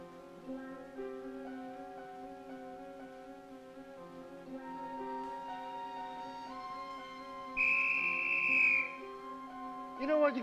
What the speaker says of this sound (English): You know what you can do with that whistle?